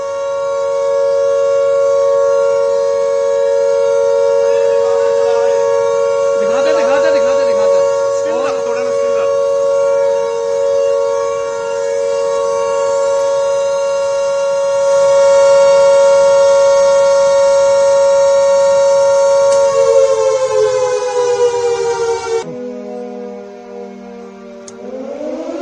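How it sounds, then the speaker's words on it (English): Air raid alert sirens in Chandigarh wail in a loud, sustained steady tone that shifts pitch and drops near the end, with faint background noise underneath. "Deepak, we are hearing the sirens now going on"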